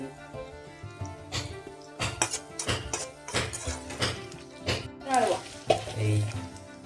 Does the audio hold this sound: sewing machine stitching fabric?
no